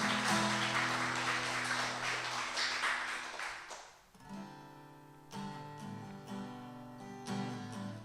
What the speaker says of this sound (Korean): 주님께 영광의 박수 올려드리려 하겠습니다